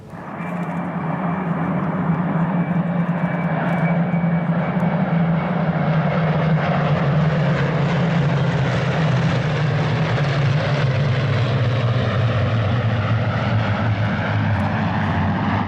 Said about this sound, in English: scenes like this mass formation of Spitfires at Duxford this September are quite so revered